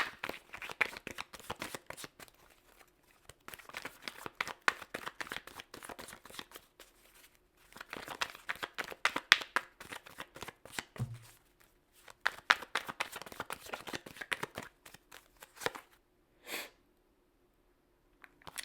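Tarot cards are shuffled by hand in quiet, close, repeated riffling bursts, with soft flicks and slides as cards are handled and drawn, separated by short pauses. No talking is heard.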